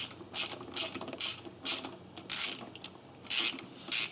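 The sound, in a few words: ratchet with 10 mm socket loosening thermostat housing bolts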